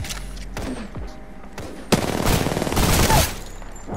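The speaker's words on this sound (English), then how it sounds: "There's someone else shooting me." Rapid automatic gunfire in the video game Apex Legends, loud close bursts with dense rattling volleys and a sharp shot near the middle, no speech.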